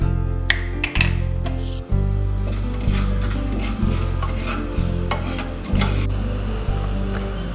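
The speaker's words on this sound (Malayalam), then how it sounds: "നമ്മൾ എടുത്തു വെച്ചിരിക്കുന്ന എള്ള് ചെറുതായിട്ടൊന്ന് ചൂടാക്കി മാറ്റി വയ്ക്കാം." Sesame seeds being lightly roasted in a hot pan, stirred with a utensil that scrapes and taps the metal in a steady rhythm over a continuous low hum, close and fairly loud.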